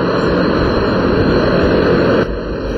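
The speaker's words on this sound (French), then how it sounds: "Entre balais d'hélicoptères et d'avions cargo stationnés" Parked helicopters and cargo planes at Gao airport produce a loud, steady roar of aircraft engines, close and continuous, with a slight drop in level near the end.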